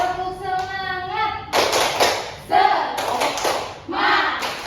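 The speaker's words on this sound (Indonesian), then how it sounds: "Kita tepuk semangat ya." A school class claps in quick rhythmic bursts, the sharp hand claps alternating with children's voices chanting together.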